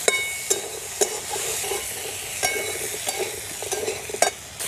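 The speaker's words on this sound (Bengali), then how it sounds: "এখন কাঁকড়াগুলোকে একটু ভেজে নেব।" Crabs coated in ghee fry in a pan with a steady sizzle, punctuated by sharp scraping knocks of stirring at irregular intervals, close and fairly loud.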